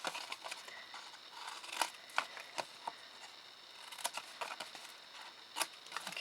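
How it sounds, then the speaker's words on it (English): Scissors snip a wedge into the side panel of a craft box, producing a series of short, crisp cuts at an irregular pace, close and fairly quiet. "we're just cutting a wedge in the side panel."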